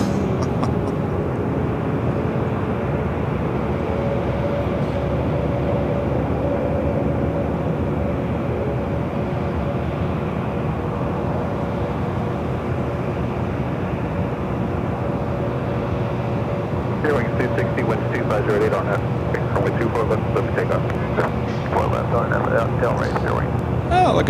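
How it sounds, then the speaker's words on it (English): A Spirit Airlines Airbus A320neo at LAX gives off a loud, continuous jet engine roar that stays steady throughout, with a person talking over it. "Spirit Airlines flight 260 heading to Seattle, A320 Neo."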